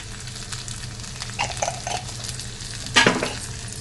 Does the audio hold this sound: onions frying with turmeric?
yes